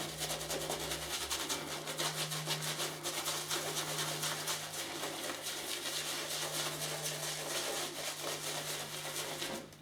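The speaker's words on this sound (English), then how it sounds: "you can see like it's easily whipping that soap up into a nice lather" Shaving brush whipping soap into lather for a traditional wet shave, a close, continuous wet swishing and rubbing with a quick back-and-forth rhythm, heard alone.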